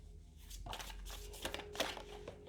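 Tarot cards are shuffled by hand in a quiet room, a few quick papery riffles and soft slaps in short bursts, close and faint, with no talking.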